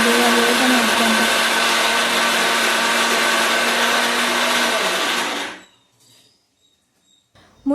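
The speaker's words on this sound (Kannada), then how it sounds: "ಹಾಗೆ ಚಟ್ನಿಗೆ ಮಿಕ್ಸಿ ಹಾಕೊಳ್ತಾ ಇದ್ದೀನಿ." A kitchen mixer grinder blends chutney, a loud steady whirring drone up close that runs for about five seconds before cutting off, leaving near silence and a faint clatter at the end.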